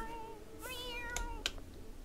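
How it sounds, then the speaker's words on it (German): A cat in The Sims 4 meows a few times in quick succession, short rising calls close and fairly clear over a quiet game background. "Was hat die Katze denn für Probleme?"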